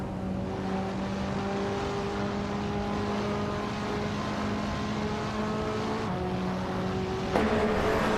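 Race cars racing hard in close company, a continuous droning engine whine with steady tones that shift pitch near the end, loud and sustained with a sharp change as a car passes.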